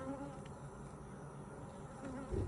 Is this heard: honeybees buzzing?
yes